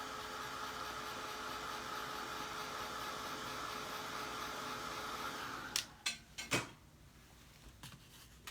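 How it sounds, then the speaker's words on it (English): A hair dryer runs steadily to dry paint on a painted snowman craft, a loud continuous whoosh that cuts off partway, followed by a few light clicks and taps. "Okay, and I'm going to dry that just a little"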